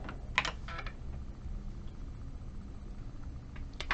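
Keystrokes tapped out on a computer keyboard while entering commands into an HDB-DOS system, a few quick clustered clicks near the start and end over a steady low hum, no voices.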